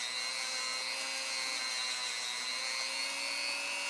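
A rotary tool spins against a copper flare fitting while polishing its rough edges, producing a constant high-pitched whine that holds evenly from start to finish, with no speech.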